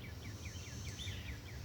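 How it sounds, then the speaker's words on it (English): Outdoor evening ambience with a bird repeating short, clear chirping calls and a steady high insect buzz from cicadas underneath, moderately distant and calm with no voices. "If you can hear the birds and the cicadas in the background,"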